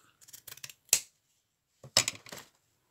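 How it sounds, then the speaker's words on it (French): Scissors cutting a piece of jute: a few quick, crisp snips up close followed by two louder crunching cuts, each about half a second long, with silence between them and no voices. "on va venir découper un bout de jute"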